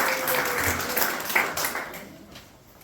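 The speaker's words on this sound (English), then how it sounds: "Round of applause again." An audience at a ceremony applauds, a moderately loud spread of many hands clapping that gradually thins and fades away toward the end.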